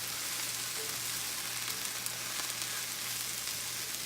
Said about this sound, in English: So we're just gonna stir fry